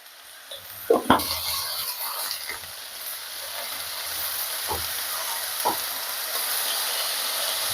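A bean and potato curry sizzling in a pan, with a steady hiss of frying throughout and a few sharp clinks and scrapes of stirring near the start and midway, close and moderately loud.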